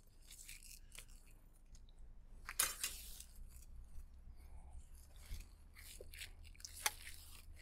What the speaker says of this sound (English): And I just happen to have a set of scissors out here.